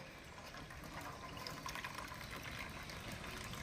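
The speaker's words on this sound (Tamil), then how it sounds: "தண்ணி வடியுது பாருங்கள்." Soft, steady trickle of water draining from cooked rice through a strainer carrier, faint and continuous with no talk.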